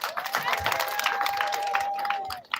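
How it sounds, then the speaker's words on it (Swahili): A crowd at an outdoor speech event on a sports ground in Mumias during 16 days of activism against gender-based violence breaks into sustained clapping and cheering, with a faint whistle-like tone running through the applause. "Situmpigie makofi mama."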